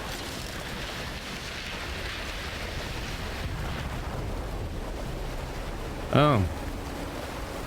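Steady wash of ocean waves and water in BioShock Remastered, a constant rushing hiss that stays even throughout, interrupted once near the end by a brief voiced exclamation.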